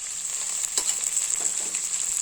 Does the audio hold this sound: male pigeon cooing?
no